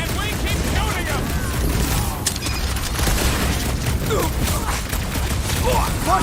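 Sustained rapid gunfire in a Guardians of the Galaxy video game battle against waves of Nova Corps troops, loud and continuous with booms and mechanical clatter, mixed with game music and effects.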